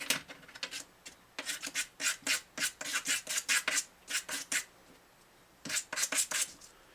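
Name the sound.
smoothing edges of a bone guitar saddle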